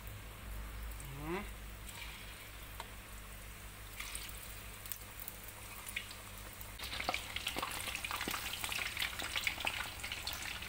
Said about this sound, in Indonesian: Kita ambil sotongnya, kita goreng guys